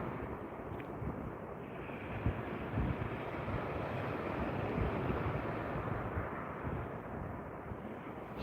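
Wind blows at sea during kayak fishing, a steady, broadband rushing roar with buffeting against the microphone that holds for the whole stretch, with no talk.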